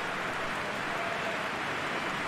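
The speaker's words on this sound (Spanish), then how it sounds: "el cielo se encapotara y comenzara a jarrear como lo ha hecho" Heavy rain pours down on a football stadium, a dense, continuous hiss of steady downpour with no pauses and no talking.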